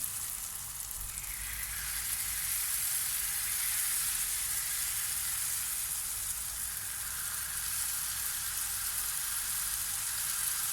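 Steady, even sizzling of dough frying in hot oil, a continuous crackling hiss with no voices, holding at a constant level throughout.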